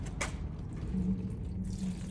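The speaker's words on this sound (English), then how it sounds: "what we're gonna do is we're gonna pour some water on this" Water poured onto a 2000-grit sanding pad while cleaning car headlights gives a soft, steady trickling splash up close, with no talking.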